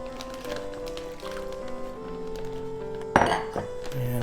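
Utensil clinking and scraping against a bowl while a Korean beef marinade is mixed, with scattered light clinks and a sharper knock near the end, close and fairly quiet.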